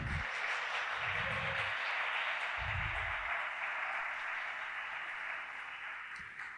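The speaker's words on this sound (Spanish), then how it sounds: "Un fuerte aplauso para ella." A hall audience applauds to welcome a department director from the Universidad Autónoma de Nuevo León, a steady wash of many hands clapping throughout, fairly far and even in level with a low rumble of room noise.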